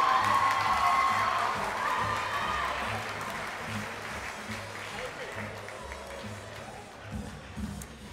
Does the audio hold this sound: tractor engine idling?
no